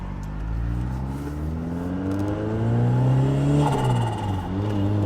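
An Audi Quattro sports car engine revs up with rising, harmonic pitch, climbing steadily and then easing off, loud and close, with no talking.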